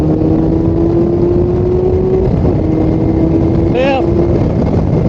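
A Kawasaki Concours 14 motorcycle with a slipping clutch pulls in fourth gear, its engine a steady droning hum with a rising tone and a brief whine near the end, loud and close amid wind rush.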